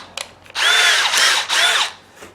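A power drill fitted with a countersink bit bores out the center hole of a wooden toy train wheel in two short, loud whirring bursts, close up, with a small click before the first burst.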